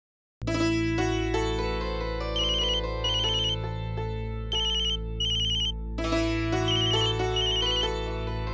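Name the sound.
phone ringtone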